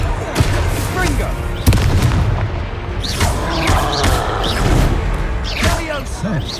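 In the Hogwarts Legacy game, the Confringo blasting spell sets off a string of loud, booming explosions, with a voice shouting spell incantations among the blasts.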